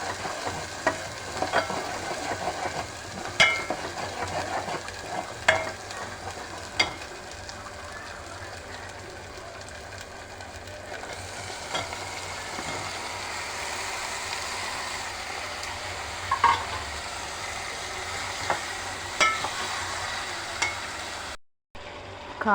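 Tomatoes with turmeric, ginger paste, salt and chili powder fry in a pan for a bommidi fish curry, a low steady sizzle broken by occasional clicks and scrapes of stirring, quiet and close.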